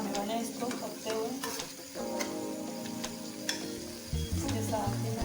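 Minced keema sizzles steadily in a pan while being stirred, with scraping and clinking spoon strokes breaking through the close, continuous frying hiss.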